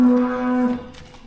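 A cow on a farm lets out a single loud, close moo, a drawn-out low tone that fades over about a second, with no one speaking.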